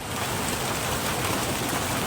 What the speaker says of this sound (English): Golf ball-sized hail raining down in Ohio on Wednesday.